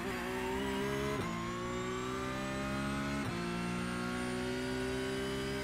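A Porsche 992 Cup race car engine in iRacing at Sebring revs up steadily through the gears, a loud continuous rising whine that dips briefly at two upshifts before climbing again, close and alone.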